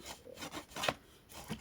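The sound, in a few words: rubbing along a paper fold to crease a pop-up card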